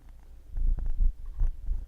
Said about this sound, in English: Yeah, you can purr for the mic for us.